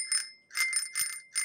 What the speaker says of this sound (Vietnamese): Chuông nha.